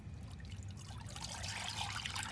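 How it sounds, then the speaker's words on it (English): Milk pours into a rinsed saucepan for a banana dessert, a steady close liquid trickle and splash that grows slightly brighter as the pan fills, with no voices. "in the saucepan we're going to add in the milk"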